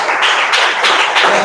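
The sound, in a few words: audience round of applause for speaker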